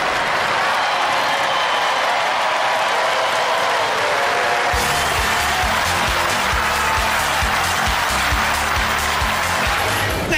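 Studio audience applause and cheering at the Robot Wars arena fill the whole stretch, loud and continuous, with a heavier, denser layer of crowd noise joining about halfway through.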